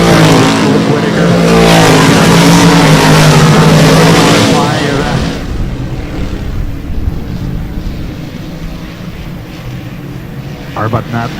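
Race cars on a track roar loudly at close range through the opening seconds, the engine noise thinning to a more distant drone as they pull away, with a commentator talking over it.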